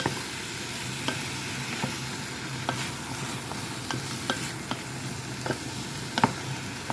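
Squid adobo fries with garlic, onion and tomato in a pan while being stirred: a steady loud sizzle runs throughout, broken by repeated sharp scrapes and clacks of the utensil against the pan.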